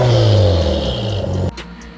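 A second-generation Toyota MR2 (SW20) small four-cylinder engine revs with a buzzy exhaust note, then cuts off abruptly.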